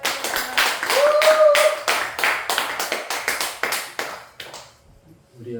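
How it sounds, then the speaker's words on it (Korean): A small church congregation claps together after a closing prayer, a burst of sharp, close handclaps for about four seconds that thins out and stops, with a voice heard over the clapping. "박수 한번 합시다."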